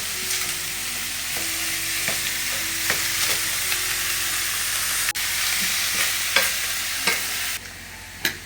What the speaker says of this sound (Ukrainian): всипаю цибульку. Підсмажуємо.